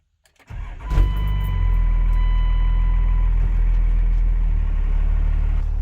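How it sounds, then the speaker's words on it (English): A 2nd Gen Cummins diesel engine in an automatic truck cranks briefly and catches, then settles into a loud, steady, rumbling idle close by with no talking. "Start her up, turn it around, and then bring her up so that oil isn't rushed to the front of the pan."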